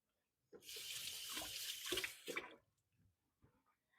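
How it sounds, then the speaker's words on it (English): A kitchen faucet runs steadily for about two seconds as hands are rinsed under it, a close, hissing stream with splashing changes before it shuts off, followed by faint drips. "I'm going to give my hands a quick little rinse."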